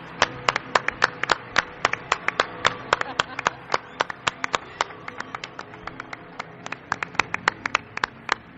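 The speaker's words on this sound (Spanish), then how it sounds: "Quiero un aplauso para él" Sparse applause on a late-night mystery show: a handful of hands clapping in sharp, distinct, uneven claps, close and crisp, continuing for several seconds with a faint background murmur.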